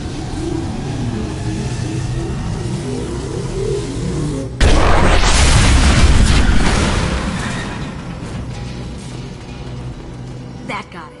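Fuel tanks explode in Mass Effect Legendary with a sudden loud boom midway, its roar spreading and slowly decaying over combat ambience and a low hum, with a sharp crack near the end.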